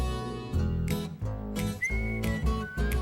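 A tuneful whistled melody rising in short phrases over a steady musical backing with bright harmonic tones, moderately loud and close, with no talking.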